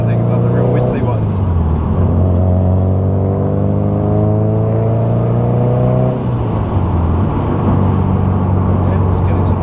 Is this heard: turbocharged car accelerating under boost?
yes